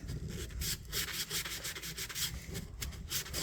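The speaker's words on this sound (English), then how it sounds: "An old piece of 600 grit sandpaper. We'll get down in there." A rusty old pocket knife is rubbed by hand with worn 600 grit sandpaper, giving quiet, close, rhythmic back-and-forth scratching strokes that keep on steadily with no voices.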